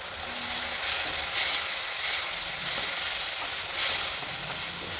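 Tamarind juice sizzling in a hot pan while gojju cooks, a loud, continuous hiss that swells and eases in gentle waves with no talking.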